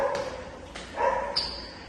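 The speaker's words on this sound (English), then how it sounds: "so the noise you hear is from the neighbors' dogs" Dogs at a neighbouring property bark a few times, faint and distant, heard from inside an apartment building stairwell.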